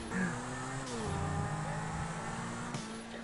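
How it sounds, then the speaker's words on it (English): Engine of a tricked-out purple Lamborghini in a video game, driving and accelerating with a steady droning hum that rises in pitch, loud and close, with no talking. "This car drives really well."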